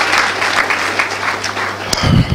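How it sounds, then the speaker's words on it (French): Applause from the audience at a book signing ceremony for Dr Cheikh Ahmed Bamba Diagne's book, a steady dense patter of clapping throughout with a low hum beneath and a sharp knock near the end. "Vos applaudissements encore, s'il vous plaît."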